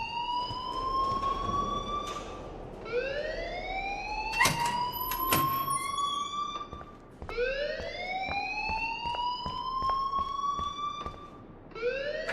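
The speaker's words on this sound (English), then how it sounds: "please turn off that alarm since that's your job" A school fire alarm in the video game Life is Strange wails in repeated rising electronic sweeps, roughly every few seconds, loud and alone, with sharp clicks scattered through it.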